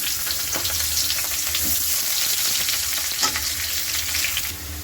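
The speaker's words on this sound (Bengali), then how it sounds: "সামান্য গোটা গরম মশলা ফোড়ন তার সাথে দিয়ে দেবো পেঁয়াজ কুচি" Chopped onion and whole garam masala spices frying in hot oil for a fish curry, a steady loud close sizzle with occasional stirring scrapes and no talk.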